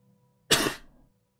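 A single sharp cough, close and loud, bursting out of near silence and trailing off quickly.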